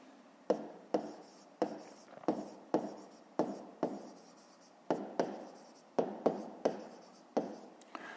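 Handwriting on paper during a fifth-grade math exercise, a close series of about a dozen quick pen strokes and taps in an irregular rhythm, with no talk.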